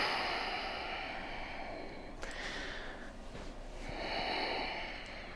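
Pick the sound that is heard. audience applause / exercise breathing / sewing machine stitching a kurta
exercise breathing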